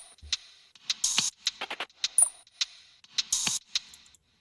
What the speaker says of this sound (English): what I did was I just brought in more percussive loops from the Medicine Pack, which sounds like this